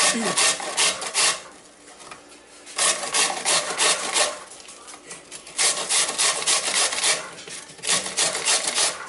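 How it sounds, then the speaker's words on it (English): An onion is grated on the large side of a grater, making loud, close, rhythmic rasping strokes in several bursts separated by brief pauses. "I use the larger side and I grate the onion"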